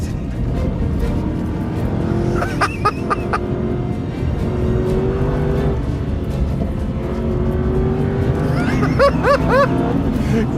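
A 2025 Aston Martin Vantage being driven hard, its engine note a loud, continuous roar that rises and falls in pitch, with a few brief high chirps scattered through.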